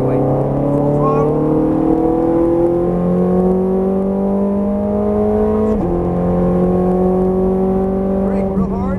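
A Ferrari F430 Scuderia engine pulls hard at full throttle, its rising tone climbing steadily through the gears with a brief shift break midway, loud and close throughout, with a voice talking over it.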